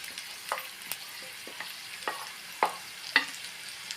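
Spices with jaggery, tamarind, chilli powder and cumin being stirred in a pan for curry leaf chutney powder, a faint dry sizzle broken by regular spoon scrapes and taps about every half second.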